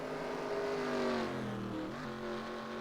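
A race car engine at Watkins Glen in a racing video game drones steadily, its pitch sliding down then briefly dipping and jumping as the clutch is used through a corner, heard fairly faintly at a distance.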